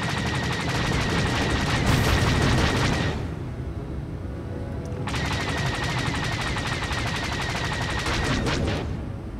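Rapid starfighter blaster fire in Star Wars: The Old Republic's Galactic Starfighter dogfight mode comes in two long, dense, loud bursts of fast repeating shots, separated by a short lull of engine rumble.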